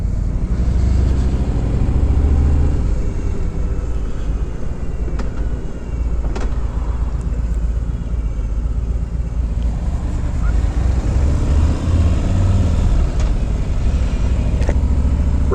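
A Harley-Davidson Road King motorcycle rides into downtown Fenton, Michigan, its engine a steady low rumble mixed with wind noise throughout.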